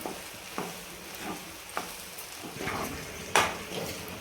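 A spoon stirs a green pea paratha filling with gram flour in a pan, making intermittent scraping strokes and soft knocks over a faint sizzle, fairly quiet, with one sharper clink near the end.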